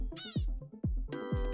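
A cat meows close up in a quick series of three or four short, strained calls, and nobody talks.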